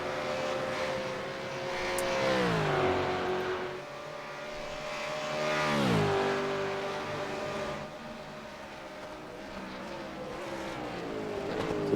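Race cars at Mount Panorama in the iRacing sim, engines rising and falling as cars pass one after another, a steady layered roar with no talk.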